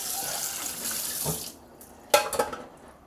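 Running water from a tap rinses a non-stick pot in a sink, a steady close splashing stream that stops, followed by a few brief clanks and splashes of the pot being handled.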